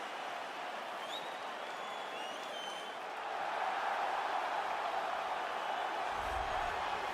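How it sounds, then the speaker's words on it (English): Crowd cheering and applauding in a UFC 3 video game as a fighter makes the walk to the cage, a broad steady roar that swells louder halfway through, with faint whistles early on. "what a pop from the crowd as this guy makes the walk."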